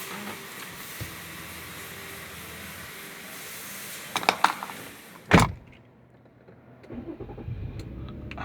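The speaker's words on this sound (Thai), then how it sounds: "เหยียบคาดกดปุ่มสตาร์ท" Nissan Teana engine starting with a push-button start, a brief whirring crank then a sharp catch into a steady low idle, heard alone in a quiet space.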